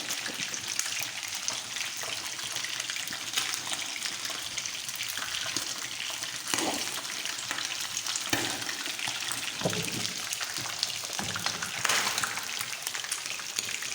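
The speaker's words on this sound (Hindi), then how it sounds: "इसमें सारी फ्राई करती हूँ" Chicken wings fry in a pan of hot oil with a dense, continuous sizzle and fine crackle, plus occasional louder pops and spatters, and no one speaking.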